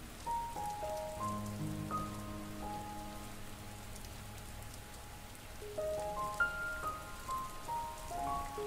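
Gentle rain patters steadily on a surface, a soft continuous hiss heard alone, with sustained tonal notes of calm meditation music lying over it.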